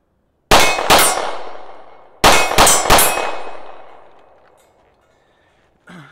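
Pistol gunshots fired in two loud, close bursts: two sharp shots, a pause of over a second from a trigger freeze, then three more rapid shots, each ringing out with a long metallic echo that fades, followed by a faint clatter.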